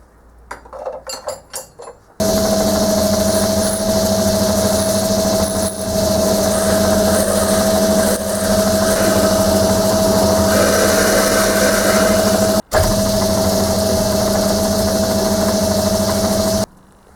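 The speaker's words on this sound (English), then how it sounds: "there is no way I'm going to speed the lathe up on this one" A lathe turns an off-balance scotch yoke part at low speed, giving a steady loud mechanical hum with a constant tonal whine, briefly cut off and resumed, after a few clinks at the start.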